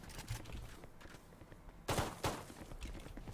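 Gunfire in the tactical shooter Valorant: a couple of sharp, loud bursts near the middle of the clip, standing out over a steady background of in-game ambience and faint footsteps.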